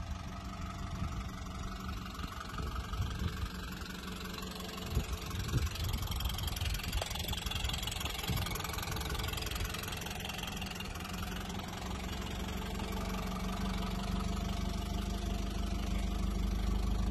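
A third-generation Mitsubishi Eclipse idles steadily while warming up, a continuous mid-pitched engine drone close to the microphone with faint clanks and no speech.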